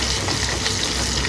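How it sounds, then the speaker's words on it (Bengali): Spices toast in hot oil for a tomato chutney, giving a close, steady sizzle and crackle that holds without a break. "এখানে মশলাপাতি টোস্ট চলছে।"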